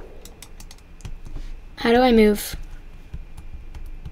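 Computer keyboard arrow keys tapped to move a character in Pikuniku give scattered light clicks throughout, while a nearby voice speaks briefly in the middle.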